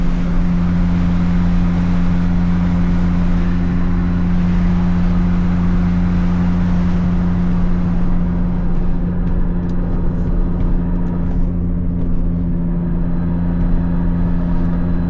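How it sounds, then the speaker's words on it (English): Constant loud drone of a Toyota Supra MK4 drivetrain cruising in sixth gear at low revs, a steady mechanical whine and rumble throughout, with a TRD transmission mount and triple-plate clutch. "it does make the transmission a little bit noisy when you're in sixth at a lower RPM"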